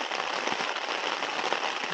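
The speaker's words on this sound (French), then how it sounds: "Il pleut" Rain falls at night on a camping tent in the Vosges mountains, a dense, steady hiss of drops drumming on the fabric, close and even with scattered louder pattering.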